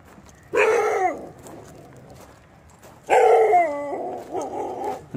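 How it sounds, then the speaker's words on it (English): A dog in a seaside fishing village barks in two short bursts, loud and close, with a quieter pause between them and a few trailing yips at the end, against faint outdoor background noise. "And that's a dog."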